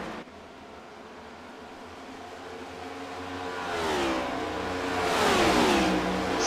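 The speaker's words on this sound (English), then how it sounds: "Still holding down those RPMs on the outside" A stock race car engine revving during an iRacing Blaze Cup race at Nashville Superspeedway, a sustained rising drone that swells louder as another car closes in and sweeps past, with pitch bending upward.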